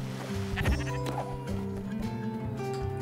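Sheep bleating in the video game Spiritfarer, a few calls over a steady layer of game music and ambience, with no talk.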